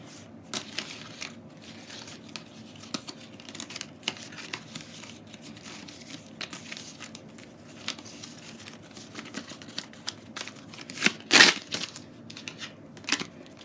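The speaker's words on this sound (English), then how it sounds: "I'm getting used to shuffling these cards." Tarot cards being shuffled by hand during a reading, a faint, steady crinkly rustle of card stock with scattered light flicks and one sharper burst near the end.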